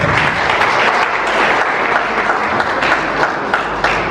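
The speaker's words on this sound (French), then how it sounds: "Sous vos applaudissements," An audience at an awards ceremony for merit and solidarity claps steadily, dense loud applause filling the whole stretch without letting up.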